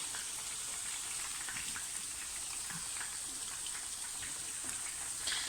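Sliced onions fry in hot oil for crispy birista, giving a steady, fine sizzling hiss with small pops throughout, no talking.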